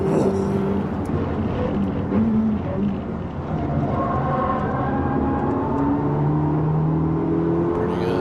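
A race car on track, its engine note droning and shifting pitch through gear changes as it downshifts, loud and continuous, with a brief spoken comment over it.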